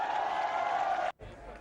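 Crowd at a political victory speech in Delhi breaks into sustained applause and cheering, a dense roar of clapping that cuts off abruptly near the end.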